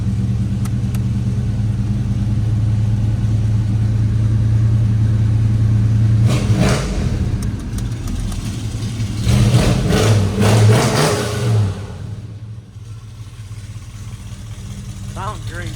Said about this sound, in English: Sounds great too. Dual exhaust.